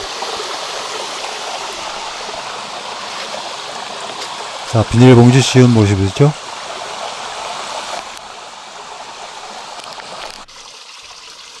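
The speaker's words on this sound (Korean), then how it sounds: "물소리 좋습니다." A mountain valley stream flows with a continuous rushing trickle of water, while someone speaks briefly partway through.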